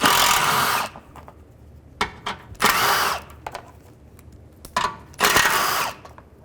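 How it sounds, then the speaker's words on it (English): A power tool with a 10mm socket backs 10mm bolts out of a 2011-2014 Chrysler 200. It whirs in several short, close, loud bursts separated by brief quiet gaps with faint tool clatter. "take these three 10mm bolts out. Just use a 10mm socket."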